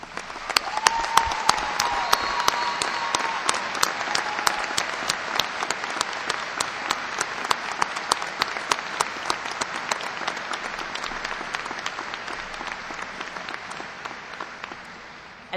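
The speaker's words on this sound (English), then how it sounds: "Will these students stand for a well-deserved round of applause?" A graduation ceremony audience gives a long, sustained round of dense applause that fills the hall at an even level, slowly thinning near the end.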